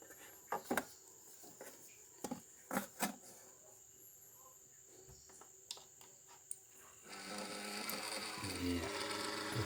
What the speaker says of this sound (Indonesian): rupanya kipasnya sudah hidup pemirsa